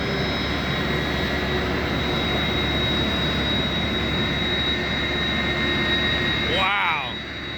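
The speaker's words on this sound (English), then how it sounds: "This 747-400 came from Japan Airlines." A Boeing 747-400 Global Supertanker air tanker, a former Japan Airlines jet, fills the air with a powerful, continuous jet-engine roar that dips slightly at the end.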